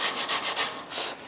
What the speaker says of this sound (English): during the rest of the neck sanding process